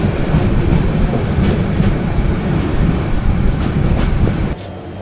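The Turna Express night passenger train runs between Khagrachari, Feni and Dhaka, heard from inside as a loud, continuous rumble with rhythmic wheel clatter. The roar drops abruptly near the end.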